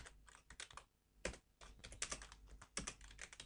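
Rapid, uneven keystrokes clatter on a computer keyboard, with bursts of clicks and short pauses between them, close and quiet with no voices.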